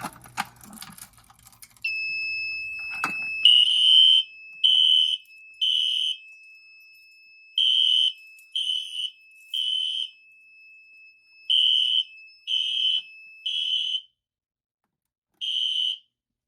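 A fire alarm beeps in repeated high-pitched bursts during a system test, irregularly spaced, loud and alone, after a brief clatter of handling noise.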